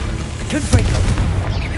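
A Confringo blasting spell from Hogwarts Legacy goes off as a single deep boom with a rumbling low tail, amid busy game effects.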